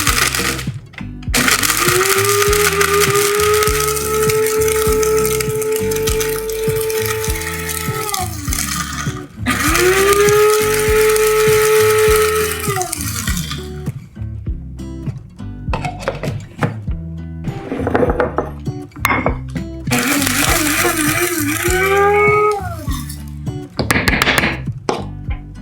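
Electric blender-style grinder pulverizing dried chilis in several loud bursts of whirring, each run rising and shifting pitch as the pieces break down, with short pauses between batches and no talking.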